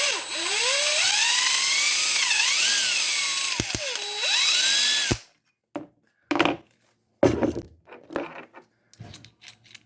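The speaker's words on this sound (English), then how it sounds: "So we'll drill this out." A power drill bores through a plastic Stihl chainsaw case to repair a broken handle, its motor whining loudly with rising and falling pitch as the bit bites and eases, then stops abruptly, followed by scattered clicks and handling knocks.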